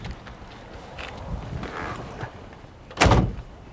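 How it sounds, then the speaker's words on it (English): A car door on a 1957 classic car shuts with a single solid, loud thud near the end, after quiet shuffling and movement sounds. "Oh, nice, solid door."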